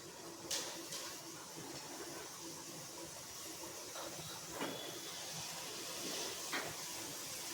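Fafda, a gram-flour snack, sizzles in hot oil with a faint, steady hiss and crackle, broken by a few brief sharper pops.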